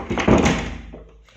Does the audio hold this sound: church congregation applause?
no